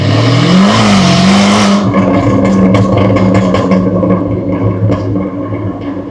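A heavily modified, very loud Jaguar F-Type accelerates hard through Stratford streets, its engine climbing and roaring before easing into a crackling, popping rumble, close and dominant.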